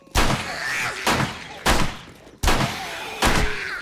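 Five loud pistol shots in the 7 Days to Die video game sound close by at an uneven pace, each a sharp crack with a short ringing decay.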